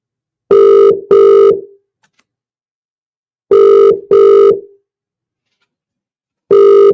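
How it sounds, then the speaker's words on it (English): A telephone rings out down the line on a live Saturday football radio show while a reporter at a Cowannon v Petershill match is called, sounding as loud, clean double-ring bursts repeated three times with silent gaps and no talk. "Just waiting to see if Ben answers the phone"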